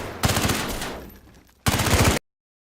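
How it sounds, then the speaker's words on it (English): Rapid SMG bursts in DayZ, a loud close burst that fades into a decaying tail, a short pause, then a second sharp burst that cuts off abruptly. "I'm the king of the castle with an SMG."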